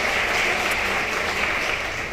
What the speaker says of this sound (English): I want to give another quick round of applause to everybody who helped put this event together.